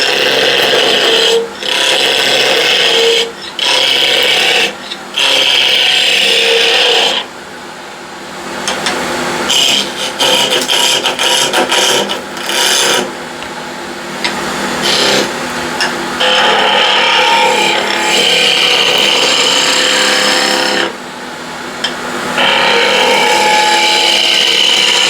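A 3/4 inch skew chisel cuts a wooden salt shaker handle round on a lathe, giving loud rasping, scraping bursts that stop and start, with brief pauses between passes.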